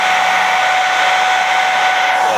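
Steady airflow roars from a low-set hair dryer pushed into a hole in a bucket full of drying clock parts from a cathedral clock, loud and unbroken throughout with a thin whine riding over the rushing air.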